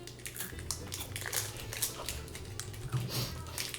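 Someone bites into a pumpkin spice chocolate roll with a creamy filling, giving several soft, close crunches and crinkles with no talk.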